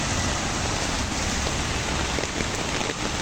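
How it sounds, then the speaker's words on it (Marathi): Steady, continuous rain pours down throughout, a dense, even wash of drops striking surfaces, close and fairly loud with no speech over it. "हा सकाळपासूनच चालू आहे पाऊस."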